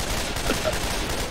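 Dense gunfire in Left 4 Dead 2, a steady wash of rapid shots filling the whole moment at fairly loud level with no pauses.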